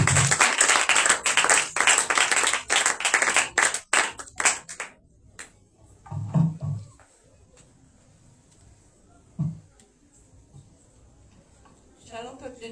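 A church congregation at an evening Passover (Pessah) celebration service claps loudly and continuously for several seconds, then the applause breaks off, leaving a quiet room with a few scattered claps and brief murmurs.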